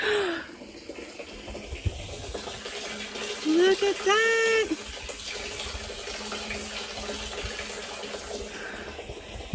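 Water flows steadily from a gravity-fed hose into a barrel for a duck pond system, a soft continuous splashing trickle, with a voice speaking briefly and excitedly over it partway through.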